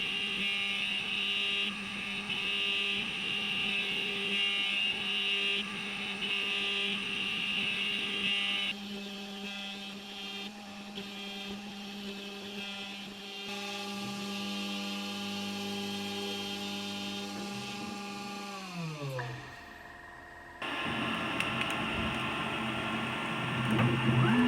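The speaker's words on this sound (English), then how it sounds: "I'm quite surprised how quiet this machine is" A Makera Carvera Air desktop CNC machine with its lid open cuts parts for an LED sign, giving a steady, fairly loud high spindle whine over motor hum that shifts tone midway, winds down near the end, then starts again.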